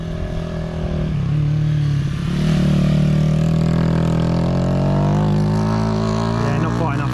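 A Honda CBR125 motorcycle rides around a car park, its small engine droning steadily and rising in pitch as it revs, loud and close throughout.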